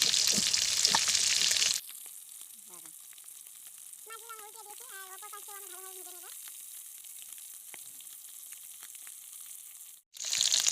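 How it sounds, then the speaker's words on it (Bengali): Rohu fish pieces fry in a pan with a loud sizzle at first, then a softer steady crackle, with short tonal sounds midway and the louder frying returning at the end. "মাছগুলো আমার ভাজা হয়ে গেছে এখন আমি এগুলোকে তুলে নেব"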